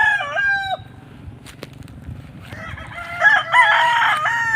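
A Boston Black gamefowl rooster crows loudly nearby, one long call followed after a pause by another crow overlapping with more crowing, over a low ambient rumble.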